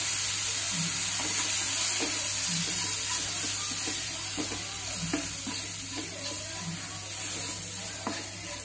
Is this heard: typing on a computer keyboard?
no